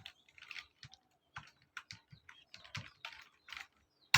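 Computer keyboard keys tapped in short irregular bursts while an application is started from a terminal, ending with a firmer keystroke for enter; close, dry clicks with no talking.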